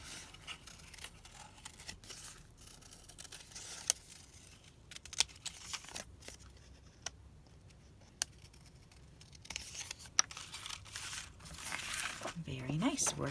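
Scissors snip through paper animal cards cut from a Dollar Tree ABC border, with sporadic close crisp clicks and rustling paper, faint and intermittent.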